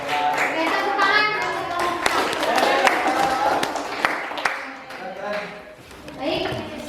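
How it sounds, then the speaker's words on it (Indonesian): Classroom hand clapping from a group of students, a scattered mix of claps and taps with children's voices talking over it throughout. "Oke, tepuk tangan."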